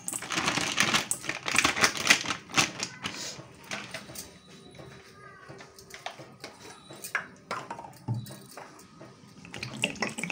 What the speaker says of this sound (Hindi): इसे हम अच्छी तरह से पानी से वॉश कर लेंगे